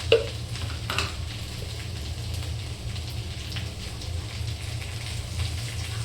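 Okra (bhindi) fries in a pan with a steady, close crackling sizzle and faint stirring scrapes, a low constant hiss running throughout with no voices.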